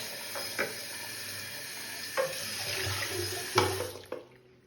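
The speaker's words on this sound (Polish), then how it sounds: "Jeszcze można przepłukać." Running water rinses out the dirty-water container of a Hizero floor cleaner at a sink. A continuous splashing, hissing flow comes with a few clunks of the container and stops abruptly at the end.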